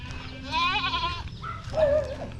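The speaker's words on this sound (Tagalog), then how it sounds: "Kadaghan sa iyang kambing." Goats on a small farm give two wavering bleats, one after the other, at a moderate distance over a low background hum, with no one speaking.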